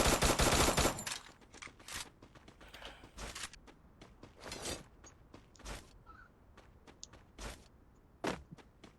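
Gunfire in the online battle-royale shooter Free Fire. After a loud dense burst at the start, scattered sharp shots and short bursts crack out at intervals, fairly faint and distant, with no speech over them.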